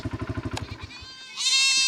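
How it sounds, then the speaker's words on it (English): A goat bleats loudly and close by in a barnyard, a wavering, drawn-out cry that ends in a sharp, sustained high-pitched call. "And yes, that goat's name is Karen"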